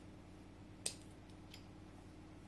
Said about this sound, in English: I can cut this knot off, and that's what we'll now do.